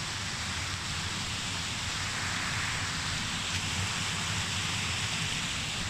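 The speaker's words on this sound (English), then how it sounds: "Quite powerful waterfall." A loud, steady roar of rushing water, like a powerful waterfall close by, filling the air with constant broadband noise.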